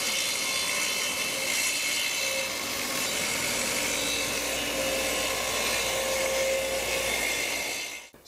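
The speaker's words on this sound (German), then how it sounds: "also sage ich mal so ungefähr 3 mm ungefähr da reinsäge und danach den Schnitt komplett durchführe" A track saw makes a shallow scoring cut about 3 mm deep into wood, a steady, loud whining buzz that runs unbroken for about eight seconds and stops abruptly at the end.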